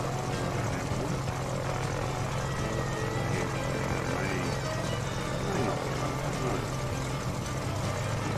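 A light aircraft engine runs on a runway before takeoff, a loud, steady propeller drone that continues unbroken with wind noise mixed in.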